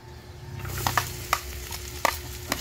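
Ginger dropped into melted butter in a pan, giving a low steady sizzle close by with a few crisp pops and stirring clicks scattered throughout, no talk.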